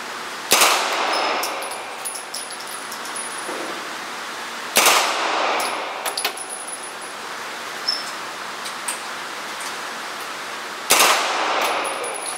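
Three loud, sharp bursts from an M4 9mm machine gun ring out at spaced intervals, each a sudden crack with a metallic clang, separated by quieter stretches of outdoor range noise.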